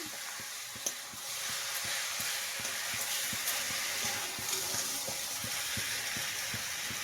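A spoon stirs finished vegetarian cabbage curry in a pan, with a soft steady sizzle and repeated light scraping taps at a regular rhythm. The sounds are fairly quiet and close.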